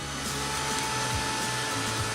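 A heat tool blows drying air over alcohol ink on a craft tag, giving a steady, loud, continuous whir with a faint tonal hum and no talking throughout.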